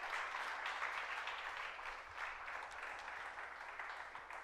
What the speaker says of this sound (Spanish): dale un aplauso si tú eres esa iglesia